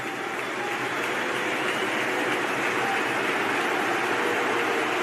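A huge stadium crowd roars and cheers after England's equalising goal by Bellingham at a World Cup match against Senegal, a loud, sustained wall of noise with no breaks.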